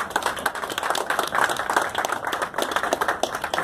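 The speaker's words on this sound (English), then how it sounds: "So huge thank you, round of applause please." Crowd clapping at a 5K run event in Hyderabad, a lively burst of many hands applauding together with distinct individual claps, moderately loud and heard on its own.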